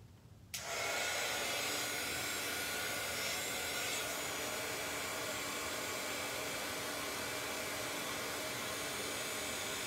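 A heat tool melting embossing powder switches on abruptly and then blows a loud, steady, breathy fan roar that continues unbroken, close up, with no talking.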